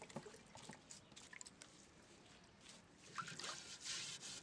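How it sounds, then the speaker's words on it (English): Water rinses a container being washed, a quiet trickling and splashing that stays soft and close before swelling into a louder hissing pour near the end. "So I'm going to wash it with some water."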